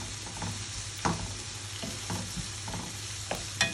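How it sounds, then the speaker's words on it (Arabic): Onions and peppers sizzle and crackle in a pan as they are stir-fried for a tuna dish, a steady close frying hiss with a few sharper stirring scrapes. "وهنا هننزل بالفلفل، ياخد برضه تشويحه معاه."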